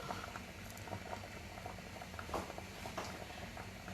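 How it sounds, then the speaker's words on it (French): A pot of water coming back to the boil in a kitchen, a faint, steady bubbling and pattering with small pops scattered throughout and no talk. "J'attends juste que l'eau reboue un petit peu."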